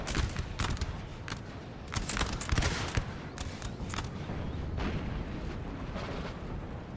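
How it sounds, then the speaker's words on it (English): Artillery and cannon fire in a Napoleon: Total War 4v4 battle, with dense, overlapping booms and sharp blasts rolling on continuously over a steady roar, loud and near throughout. "now the artillery is in full swing here."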